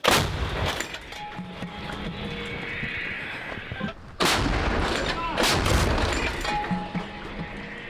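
Heavy booming blasts of artillery fire in the Pokrovsk area of Ukraine: one at the start, then two more midway, each with a long rumbling tail over constant outdoor background noise.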